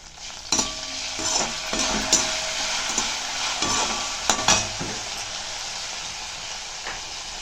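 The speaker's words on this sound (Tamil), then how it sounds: "அதையும் இந்த சூட்லேயே போட்டு நம்ம லைட்டாக வறுத்துக்கலாம்" Washed curry leaves are lightly dry-roasted in a hot pan for an Iyengar-style medicinal tamarind curry. Scraping stirs and soft crackles come in irregular bursts over a steady hiss, then fade toward a quieter finish.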